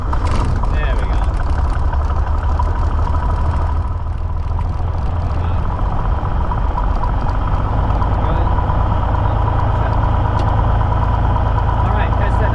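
A small propeller airplane engine idles steadily just after starting, a continuous low drone close by under occasional talk from the cockpit.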